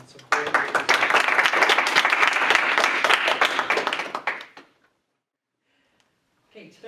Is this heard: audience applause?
yes